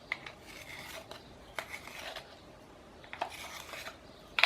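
Short scraping rasps from a pencil being sharpened to a point, coming in several brief separate bursts at close range with quiet gaps between them.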